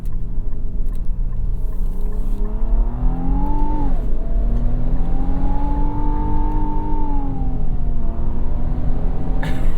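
Cabin recording of the 2025 Infiniti QX80 engine while driving in standard mode, with a high-pitched, whiny, vacuum-like tone that rises, dips briefly, then holds steady over a loud, constant road rumble.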